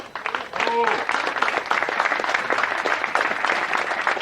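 Sustained audience applause filling an indoor show crowd, steady dense clapping throughout with a brief voice near the start.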